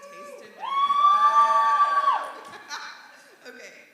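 A crowd at a workplace event roars and whoops, with loud sustained shouting voices rising and then tapering off into scattered cries.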